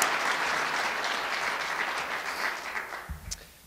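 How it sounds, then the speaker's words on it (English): Loud, sustained applause from attendees at an annual club meeting, a dense continuous clapping that holds steady and tapers near the end, followed by a brief low thump. "I'd also ask that we give a round of applause for Lee McDougall and Pat Rowan"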